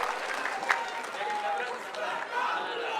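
Loud, sustained applause from a crowd welcoming Mulayam Singh at a Samajwadi Party press conference, steady clapping throughout with faint chatter mixed in.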